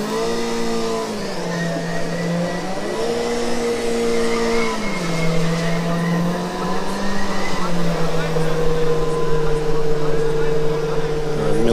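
A Formula Student race car drives the skidpad loops, its engine droning steadily and rising and falling in pitch as it goes around, with a commentator speaking over it.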